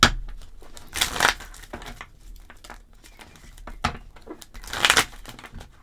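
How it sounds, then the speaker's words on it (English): A deck of tarot cards is shuffled by hand in close, crisp bursts of riffling and flicking, with several louder rustles among quieter card handling. "let's go into the pre-shuffle and let's see what we have"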